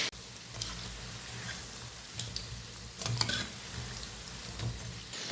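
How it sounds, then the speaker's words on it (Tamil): Lentil vadas made with drumstick leaves bubble and fry in oil, a soft continuous hiss with a few faint clicks and crackles scattered through, heard up close with no voices. "இதே ஃப்ளேமில் இந்த வடை நல்லா பொறு பொறுன்னு வெந்து வரட்டும்"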